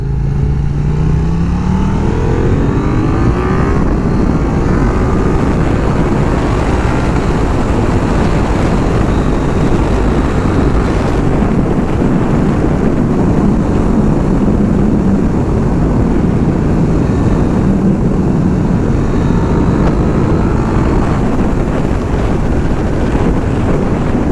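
A 2021 KTM 890 Duke motorcycle engine drones steadily while riding, its pitch rising and falling with throttle under constant rushing wind noise, no talking.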